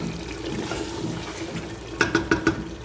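Water is poured into a pressure cooker holding a spiced dish, a soft splashing trickle followed by a quick run of four louder sloshing pours near the end.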